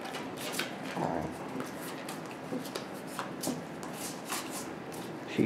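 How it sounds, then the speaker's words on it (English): Cards for the board game Mythe are shuffled by hand, a soft, papery riffling and rubbing that comes in uneven bursts, close and fairly quiet, with brief faint sounds from people around the table. "She's shuffling. She's doing the curly shuffle."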